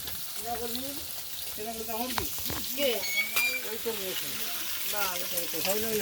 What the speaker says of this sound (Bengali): রান্না হচ্ছে মোচা।